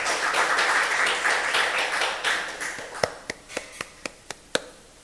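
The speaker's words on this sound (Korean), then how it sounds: "박수로 청하겠습니다." Applause from a church congregation during a Sunday worship service, a dense wash of clapping that thins out into a handful of separate, distinct claps near the end.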